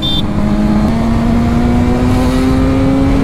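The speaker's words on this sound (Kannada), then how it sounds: "ಇನ್ನೊಂದು ರೆಡ್ ಕಲರ್ ಫೆರಾರಿ ಹೋಯ್ತು" A red Ferrari sports car drives past on a road, its engine a steady, loud mid-pitched drone with a slowly rising tone, close by and continuous, with no talk over it.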